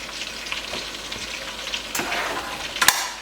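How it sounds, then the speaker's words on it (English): Onion halves dropped cut side down into melted butter in a stock pot sizzle and fry steadily, with a soft hiss throughout and a couple of sharper crackles and pops near the end. "I'm going to take my 4 onion halves and I'm going to put them main cut side down in my stock pot"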